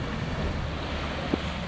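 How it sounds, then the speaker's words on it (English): Steady broadband rush of water pouring over a river weir, a constant outdoor wash with little variation and a faint bump near the end. "you've got that magnificent weir over there"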